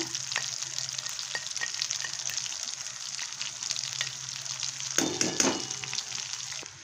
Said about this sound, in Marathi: हे वाटण मस्त असं भाजून घेऊया आपण तेल सुटेपर्यंत